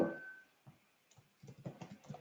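Soft, irregular clicks of typing on a computer keyboard, a few scattered taps then a quicker cluster of keystrokes, quiet and close.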